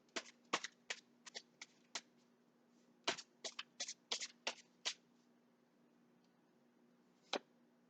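Tarot cards are drawn from a deck in quick, crisp snaps and flicks that come in small clusters with short pauses, followed by one last isolated snap, all quiet against a faint steady hum.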